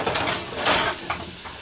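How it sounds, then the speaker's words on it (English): Garlic sizzling in hot oil in a pan, a soft steady crackle with faint clinks of a utensil, brief and close. "You hear that? Just that nice little sizzle."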